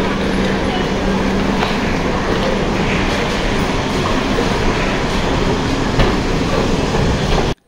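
A Mumbai local train rumbles steadily and loudly through a station platform, with continuous clattering wheel and carriage noise along with people talking nearby.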